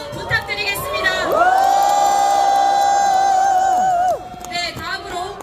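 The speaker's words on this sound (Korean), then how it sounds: "정명 의원님께 다시 한번 큰 박수와 함성 부탁드리겠습니다." A rally crowd on the steps in front of the National Assembly main building roars and cheers in a sustained swell of voices, loud and close, with a long held shout rising and fading over several seconds.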